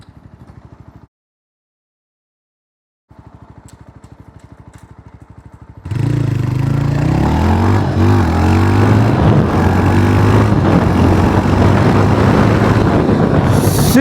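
A 350cc adventure-style motorcycle thumps with a steady low pulse and falls silent briefly, then roars loud and close under heavy wind rush during a 60-to-0 km/h rear-brake test.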